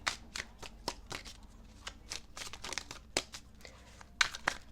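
Tarot cards are shuffled by hand as a series of crisp, riffling bursts. The bursts come irregularly and sit close and fairly quiet, with no talking.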